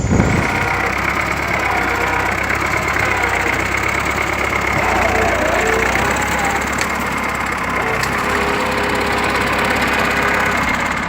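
An IMT 558 tractor engine runs steadily, a loud continuous low rumble with outdoor background noise throughout, logging or working in mud.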